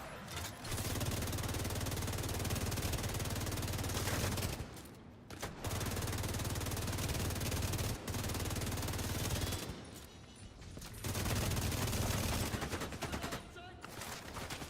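Sustained automatic gunfire in The Division 2 video game, long dense bursts of rapid shots broken by short pauses, loud and close.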